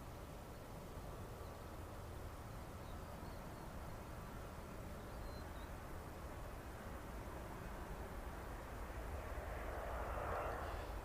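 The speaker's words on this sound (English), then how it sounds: "firm landing from our good friends at Ryanair there" A Ryanair airliner touching down on the runway, heard from inside as a steady, dense roar of engine and rumble that swells slightly toward the end, with no clear speech.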